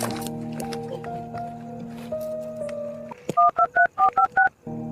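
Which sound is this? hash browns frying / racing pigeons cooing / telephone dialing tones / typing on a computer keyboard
telephone dialing tones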